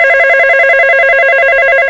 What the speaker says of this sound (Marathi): आता जर फोन आला तर तो तू घ्यायचा कळलं?